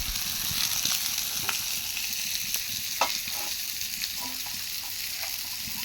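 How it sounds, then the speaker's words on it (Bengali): Fish frying in a pan gives a steady, close crackling sizzle, with occasional sharp pops and the faint scrape of stirring. "রান্না করতেছি, মাছ ভাজতেছি।"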